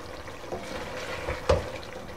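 Keema seasoned with ground coriander fries in a pan, a soft steady sizzle broken by a few light stirring scrapes, one sharper knock near the middle; no speech.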